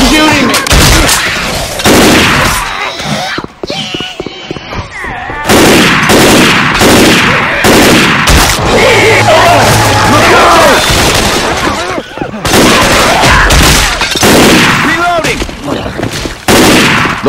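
Dense gunfire from Left 4 Dead 2 rattles almost nonstop, with rapid shots and automatic bursts that are loud and close, broken by short pauses, and voices shout over the shooting.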